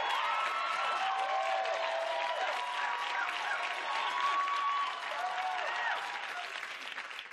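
Applause and cheering fill a talk-show studio audience in a dense, continuous roar of clapping with occasional whoops, holding steady before easing slightly toward the end.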